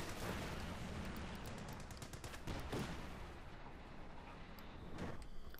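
Dense machine gun fire rattles continuously in a Company of Heroes 2 match, rapid overlapping bursts with scattered sharper shots and booms, a steady loud barrage throughout.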